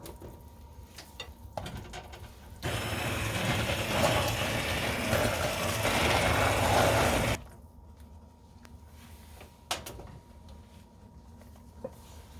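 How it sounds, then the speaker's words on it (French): A hand blender whirs steadily through a roast beef sauce (asado negro) for about five seconds, loud and continuous, with quieter kitchen handling before and after. "Et à l'aide d'un mixeur à main, on va blender la sauce."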